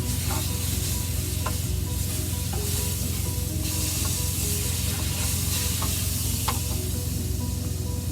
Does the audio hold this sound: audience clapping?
no